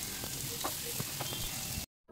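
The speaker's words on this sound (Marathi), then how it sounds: "मच्छी फ्राय करत ठेवली आहे मी" Fish fries in hot oil in a pan with a steady, close sizzle and a few crackles and utensil touches, before cutting off briefly near the end.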